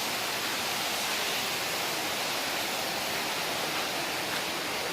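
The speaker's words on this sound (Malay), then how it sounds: "ini tempat pemandian air dingin Rawang 2" Water rushes continuously at the Rawang 2 cold-water bathing spot in Aceh Selatan, a loud, even roar of flow with no voices.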